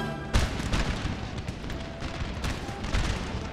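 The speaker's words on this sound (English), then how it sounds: "Quite the artillery duel here." Booming artillery cannon fire in the Napoleon: Total War video game, several dull heavy shots layered over a continuous battlefield rumble, one sharp nearer blast at the start followed by more distant thuds.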